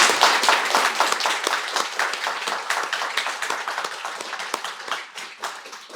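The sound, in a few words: applause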